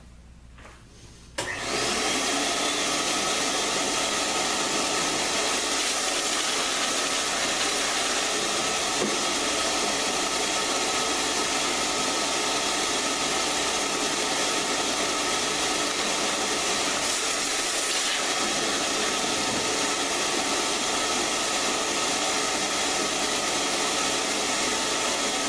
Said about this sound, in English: Let me get the vacuum here.